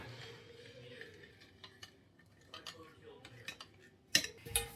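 Soft scraping and clinking of a utensil against a bowl as fried rice ingredients are stirred, followed by a couple of louder knocks at the end.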